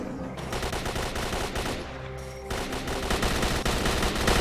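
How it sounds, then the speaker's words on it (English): Gunfire in the video game Stalker Call of Pripyat, dense rapid automatic bursts that run loud and nearly continuous with a short lull in the middle. "And more gunfire."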